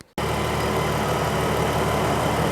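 A Mercedes SLK32 AMG, warmed up, idles with a steady, even engine rumble that starts abruptly after a brief silence and holds constant, close and fairly loud.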